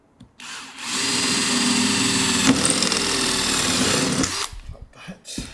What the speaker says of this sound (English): I'm just going to drill a hole through there